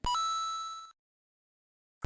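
Electronic doorbell chime with a single ding that rings out and decays over almost a second, then a brief click, heard during a video game podcast recording.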